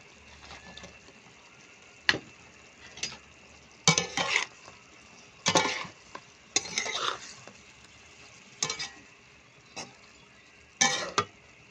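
Tofu fries in a pan for binagoongang talong in short bursts of loud sizzling and stirring scrapes. Quiet stretches separate the bursts, all heard up close.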